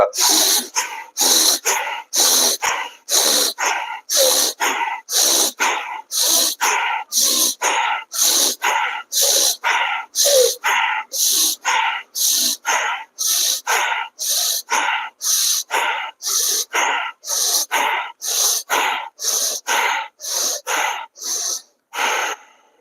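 Forceful bhastrika pranayama breathing: rapid, rhythmic, sharp nasal exhalations and inhalations repeated steadily about once per second, close and alone, with only brief pauses near the end.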